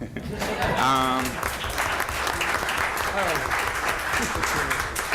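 Audience applause at a city council meeting in Waukegan, steady clapping that runs under a voice talking over it for most of the stretch.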